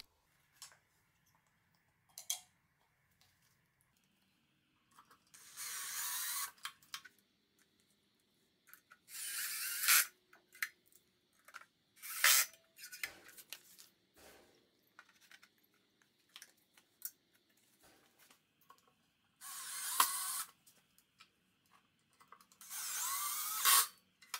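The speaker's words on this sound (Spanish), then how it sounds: "y ya puedo apretar el tornillo en el frente. Así que a contar agujeros y a meter tornillos." Bursts of a power drill or screwdriver driving screws into a Wolfcraft workbench during assembly, several separate whirring runs of a few seconds each with quiet gaps and small ticks between them, close by and with no talk.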